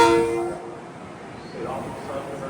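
A Long Island Rail Road train pulls out of the busy Jamaica station on the Babylon line, opening with a short horn blast that fades into low rolling rumble and rail noise.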